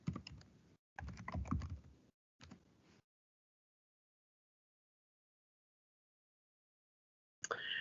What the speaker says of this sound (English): I can just simply type right here